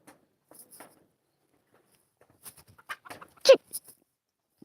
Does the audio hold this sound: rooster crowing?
yes